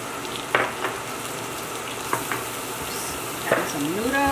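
Noodles and dumplings cook in a hot pot soup, giving a constant bubbling, sizzling wash close by, broken by a few sharp clinks of utensils and a short vocal sound near the end.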